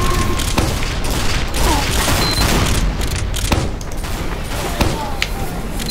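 Demoman sticky bombs going off on a lift in Team Fortress 2, a dense loud barrage of blasts and thumps with sharp bangs amid chaotic game battle noise and voices.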